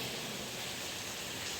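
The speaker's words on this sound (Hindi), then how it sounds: "बहुत तेज हो रही है बारिश" Steady, dense hiss of heavy rain pouring without a break, broad and constant throughout.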